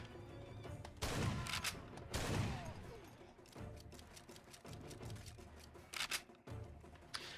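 Shotgun blasts fired in the dark Far Cry video game, several loud booming shots at irregular intervals with rattling, clattering mechanical sounds between them.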